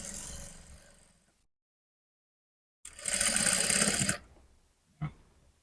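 A sewing machine stitches a fabric strip for a trouser zip in short runs. A whirring burst fades out, then after a silent pause a louder stretch of stitching runs about a second, followed by a brief final tap.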